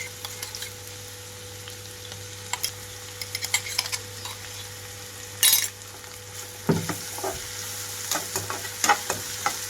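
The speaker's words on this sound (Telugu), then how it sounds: "ఒక్క నిమిషం పాటు వేయించుకుంటే హై ఫ్లేమ్లో ఉంచి సరిపోతుంది" Green chili paste fries on high flame in a pan, a constant soft sizzle under scattered clicks and scrapes of a spoon against the metal, with a louder clatter midway.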